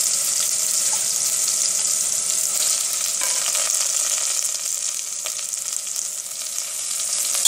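Soya chunks squeezed of water sizzle and fry in hot oil in a pan, a steady, bright crackling hiss that runs continuously at close range, with occasional stirring scrapes and no speech.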